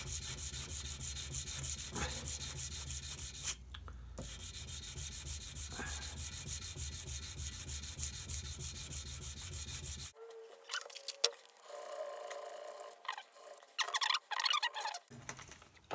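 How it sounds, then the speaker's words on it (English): Emery on a file rubbing and polishing the top of a brass .300 Win rifle case, a steady close scraping rasp for about ten seconds, then quieter intermittent scratches and taps. "we're just going to polish up the top with a bit of emery on the file again"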